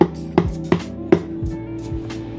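Knuckles knocking on the body of an SX acoustic guitar like a cajon, four hollow resonant thumps in an even rhythm followed by softer taps, each ringing briefly with woody body tone, close and alone.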